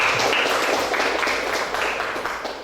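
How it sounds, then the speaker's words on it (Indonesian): Classroom of students clapping together after a history lesson question, a dense, steady patter of many hands that stays fairly loud throughout and eases slightly toward the end. "Tepuk tangan dulu ya."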